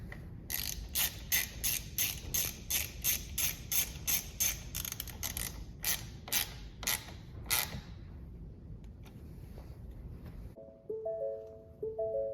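Rapid repeating electronic chimes ring from a Ford Explorer police interceptor right after its battery is reconnected, a fast ticking run of tones that fades, then a short melodic tone sequence near the end.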